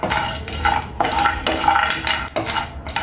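Spices being fried and stirred in a pan for a cashew chicken curry, with rhythmic scraping strokes of a spatula against metal about twice a second over a light sizzle, close and fairly loud, with no voices.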